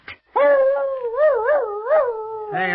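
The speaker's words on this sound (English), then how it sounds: "My people say that when a dog howls, he is mourning because there is death in the air." A dog howls in one long, wavering, mournful cry lasting a couple of seconds, loud and close, rising and falling in pitch with a short yelp just before it.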